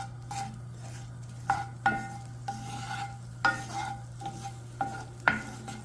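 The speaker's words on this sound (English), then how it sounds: "In my cast iron skillet, I'm going to add my onions and cook those down just a little bit before I add my peas." Onions cook down in a cast iron skillet for a sweet potato hash, with a low steady sizzle under several sharp scrapes and clinks of a utensil stirring the pan.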